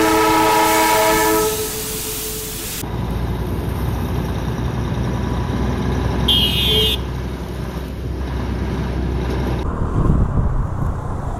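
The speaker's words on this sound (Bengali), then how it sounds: "আমার ডান দিক থেকে টয় ট্রেন যাচ্ছে" The Darjeeling toy train rumbles past nearby with a steady mechanical roar, a horn-like tone sounding at the start, all under constant road and scooter engine noise.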